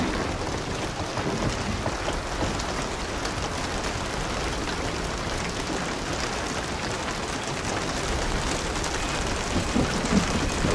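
Steady heavy rain in the video game Hunt: Showdown, a dense, even hiss of falling drops that holds without a break, with a low rumble like distant thunder beneath it and no talking.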